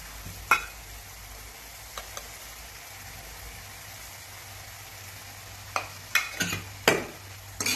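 A spoon stirs bhaji made with kadavanchi and crushed peanuts in a pan, giving a soft low sizzle broken by a few sharp scrapes and clacks of the spoon against the pan, near and otherwise quiet.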